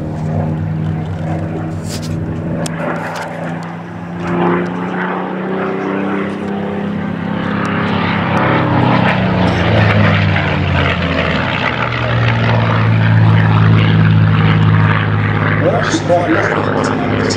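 A Spitfire propeller fighter flies a display at the Duxford air show, its loud, steady engine drone droning on throughout with a rising, shifting pitch as it passes, while people talk over it.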